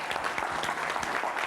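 Steady, dense applause from a seated audience welcoming the host of a real estate seminar, sustained throughout without voices.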